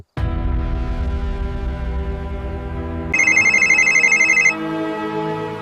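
A phone ringtone plays loudly and steadily for several seconds in a tense police scene, turning brighter and more insistent partway through, with no talk over it.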